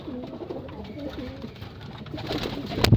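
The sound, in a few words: pigeons cooing and squabbling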